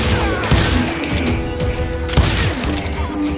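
Heavy Call of Juarez Gunslinger gunfire rings out close and loud in a steady fusillade of overlapping shots, with a few sharper cracks standing out over the dense barrage.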